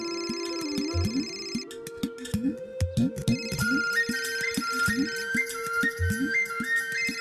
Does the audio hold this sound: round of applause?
no